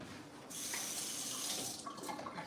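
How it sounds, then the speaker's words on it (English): Tap water runs steadily into a sink as hands are rinsed during juice prep, a bright continuous hiss that starts half a second in and fades near the end, close and alone with no talking. "Just had to rinse my hands real quick."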